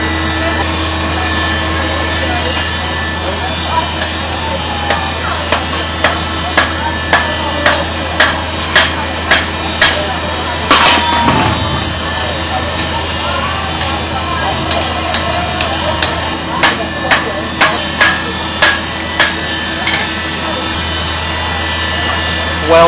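Hammer blows ring out on hot metal during forge fire welding, a run of sharp regular strikes over a steady roaring forge blower, pausing midway before another rhythmic series of blows.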